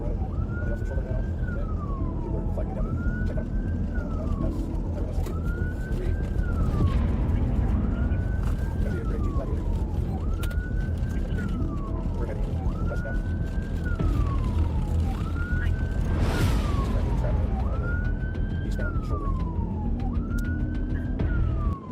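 A wailing police car siren sweeps up and down in steady repeated cycles over a constant low rumble of traffic during a car chase, moderately loud and continuous throughout.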